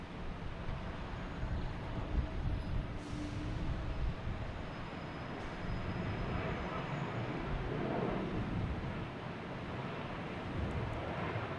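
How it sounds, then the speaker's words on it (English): JetBlue Airbus A321 taking off at Boston Logan, a steady broad distant jet roar that swells slightly toward the middle, with a voice speaking briefly at the start. "then we got that JetBlue taking off. A A321"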